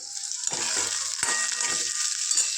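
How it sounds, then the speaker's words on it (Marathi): Close, steady sizzling of onions frying in oil, with a few scraping stirs of a spatula breaking through the hiss. "आता हा कांदा आपल्याला सगळा भाजून घ्यायचा चांगला ब्राऊन कलर येईपर्यंत"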